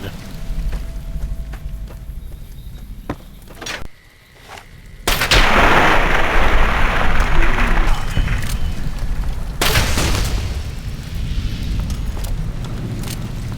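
Gunfire rings out in the Fallout Tale of Two Wastelands video game, with sharp shots early on followed by long, loud rumbling blasts and fiery roars, busy and forceful.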